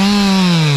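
Chainsaw cutting into a dying tree, a loud, steady high-revving engine whine held close for a short burst, pitch dipping slightly as the chain bites.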